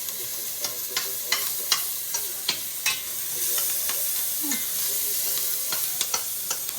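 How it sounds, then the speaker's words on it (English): Onions, shallots and garlic fry in a pan under a constant sizzle, punctuated by repeated sharp scraping clicks from a utensil stirring them, with no one talking. "My goal is to sweat out these onions, make them nice and not crispy, but just cooked."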